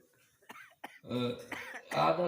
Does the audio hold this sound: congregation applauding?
no